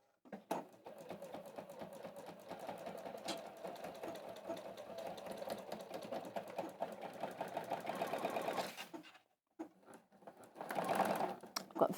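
Sewing machine stitching through thick denim, a fast steady rattling run of stitches for several seconds, a brief pause, then another short burst.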